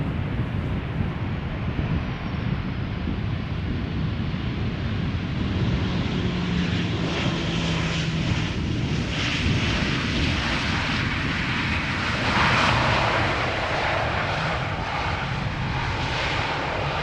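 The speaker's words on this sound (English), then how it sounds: "KLM flight 1926 up next, Boeing 737-800, flight time 1 hour and 16 minutes to get from Geneva to where it is right now." A KLM Boeing 737-800 arriving from Geneva roars past on its landing approach at Amsterdam Schiphol, a loud, steady jet rumble that swells toward the end, with some wind buffeting on the microphone.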